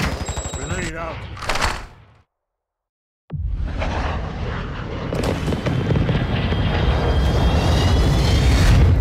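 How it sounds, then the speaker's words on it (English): A Call of Duty Warzone 2 grenade explodes with a loud burst after a brief silence, followed by heavy sustained rumbling and crackling, with a voice heard at the start. "Grenade out."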